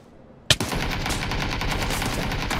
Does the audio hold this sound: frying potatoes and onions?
no